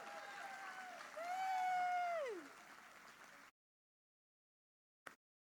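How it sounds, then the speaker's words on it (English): An audience claps steadily for a Senior Airman receiving a team award at a USO service salute, with a rising whoop over the applause before it cuts off abruptly into silence. "Please join in a round of applause for Senior Airman Courtney L."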